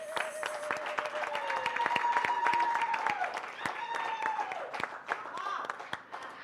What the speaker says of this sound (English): Let's give the Premier and the Minister a round of applause.